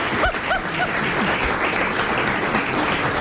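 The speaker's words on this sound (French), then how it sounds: "Vous applaudissez Monsieur Gobillot de Bois d'Arcy" Studio audience on a 1993 French television game show applauding steadily, a dense continuous wash of clapping throughout with a few faint tonal chimes early on.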